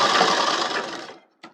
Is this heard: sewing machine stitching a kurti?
yes